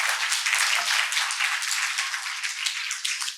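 Dense, steady audience clapping at a televised discussion program in Yavatmal, Maharashtra, filling the clip evenly from start to finish with no voices.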